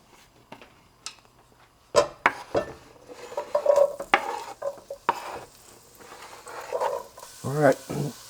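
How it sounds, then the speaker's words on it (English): Onion sautéing in cooking oil for a dolmeh stuffing, with a utensil scraping and clanking against the pan in irregular bursts over a soft sizzle, close; a voice speaks briefly. "put the cooking oil and start sauteing our onion"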